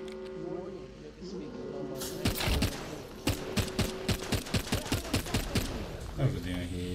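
Rapid automatic gunfire during an Apex Legends battle, several loud close bursts of shots stacked over game music and effects, with a player talking in between.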